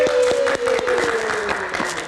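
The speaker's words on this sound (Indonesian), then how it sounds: "Kita berikan tepuk tangan untuk Mas Tatas." A crowd applauds with steady clapping, while a tone slides gently downward underneath.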